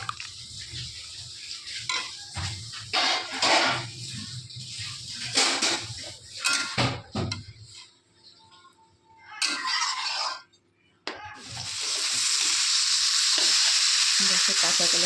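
Raw green banana simmering in a pot of added water, stirred with a spoon, giving a busy bubbling sizzle with scraping and clinks of utensil on metal, ending in a steady loud hiss.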